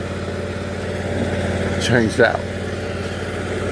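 A Bradley lawn mower with a Briggs engine, fresh from the repair shop with a new pulley, idling in a steady low drone while someone talks over it.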